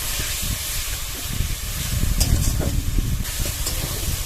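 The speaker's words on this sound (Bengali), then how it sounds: "এবার ফ্লেমটা বাড়িয়ে মশলাটা কষিয়ে নেব" Spice paste of ground cumin and coriander with a splash of water frying over a raised high flame, giving a steady broadband sizzle with soft crackles and occasional stirring scrapes, close and fairly loud, with no talking.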